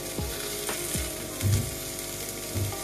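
Spiced tikka meat pieces fry in a pan until their masala coating dries, a steady close hiss with a few soft scrapes and bumps as they are moved around.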